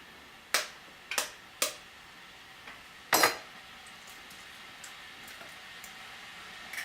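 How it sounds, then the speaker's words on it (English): An egg cracked against the rim of a blender jar in a home kitchen: a few sharp, close taps and knocks in quick succession, then a louder crack, followed by faint clicks, with no talking. "Next is an egg, and we are going to crack it."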